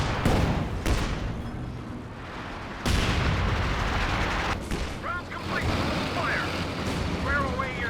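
A heavy artillery barrage rumbles through a Company of Heroes 2 battle, repeated loud booms and blasts rolling over a constant roar of combat, while a commentator talks throughout and chirping tones surface near the end.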